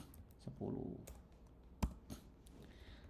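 Computer keyboard keys pressed while editing a network config file: a few scattered clicks and one sharper keystroke, faint and close, with some background murmur.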